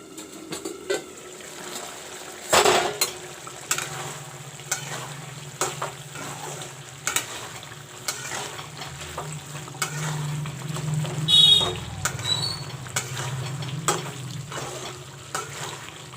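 Beans and potato curry with chopped coriander cooks in a covered pan on the stove, giving a steady low sizzle and bubble with a few sharp clinks and knocks of the lid or utensil.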